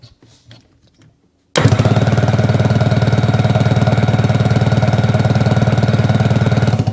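A Sea-Doo 3D 787 personal watercraft engine, just jump-started after starter trouble, bursts into life and runs loud and steady with a fast rough pulsing throb, preceded by faint handling noises.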